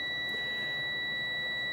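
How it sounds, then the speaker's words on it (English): A multimeter on continuity test beeps steadily against a Dodge Dakota windshield wiper motor with a shorted armature, a thin continuous high tone held for the whole moment, quiet and unbroken. "This should not be giving me a continuity beep."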